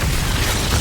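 A spell impact in the Hogwarts Legacy video game, the Expulso blast spell, gives a dense, loud burst of noise that fills the whole short moment without any voice over it.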